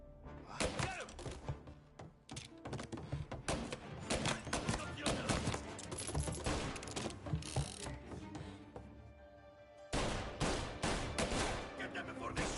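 A video game shootout erupts in loud, rapid bursts of gunfire with mechanical clacks, running almost without a break and pausing briefly just before the final stretch.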